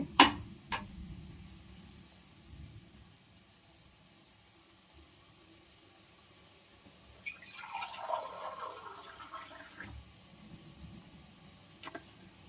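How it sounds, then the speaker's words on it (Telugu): Water pours into a pot of mutton curry in a steady stream for a few seconds midway, with a few faint clinks before and after in a quiet room. "వాటర్ పోసేస్తున్నాను"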